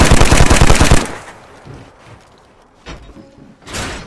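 Rapid video game gunfire as a player shoots an enemy, a loud dense burst of automatic shots for about a second, followed by quieter scattered clicks and thuds and a final short burst near the end.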